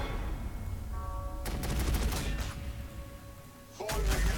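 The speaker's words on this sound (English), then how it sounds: "we'll finish up with a heavy bolter shot" Gunfire from a heavy bolter and lascannon in the Warhammer 40,000 Sanctus Reach strategy game, heard as a loud burst of rapid repeated shots over a steady battlefield rumble, with a second sharp blast near the end.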